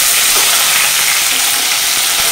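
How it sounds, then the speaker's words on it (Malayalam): Curry leaves sizzle in hot oil right after mustard seeds have popped, producing a loud, steady frying hiss, close and continuous, with a few faint crackles beneath it. "കടുക് പൊട്ടിക്കഴിഞ്ഞ് വേപ്പില ഇടുക."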